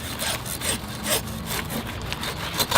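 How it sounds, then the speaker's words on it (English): A hacksaw rasps back and forth through dense, frozen bonsai tree roots in repeated close strokes, gritty and uneven, with no voices. "So I'm just going to come in with the hacksaw."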